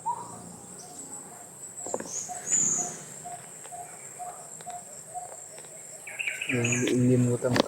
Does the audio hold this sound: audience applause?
no